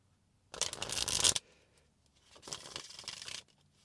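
A deck of cards is shuffled in two separate bursts, a longer crisp riffle followed by a softer second shuffle after a short pause, close up with no talking.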